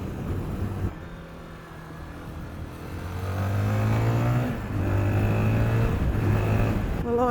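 A small 350cc Zontes 350GK motorcycle climbs a hill and pulls past cars. Its engine drones steadily and rises in pitch and loudness as it accelerates, with wind rush around it and no talking.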